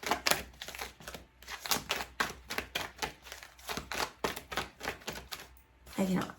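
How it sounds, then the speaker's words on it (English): A deck of oracle cards is shuffled by hand, giving a run of crisp, fast riffling bursts and taps in an uneven rhythm, close and fairly quiet. "I'm not like the best at shuffling today"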